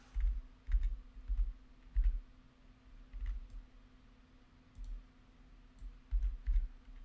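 A computer mouse clicks while bones in a 3D character rig are selected on screen. The clicks are soft and close, coming in small irregular bursts over a low steady hum, with no voices.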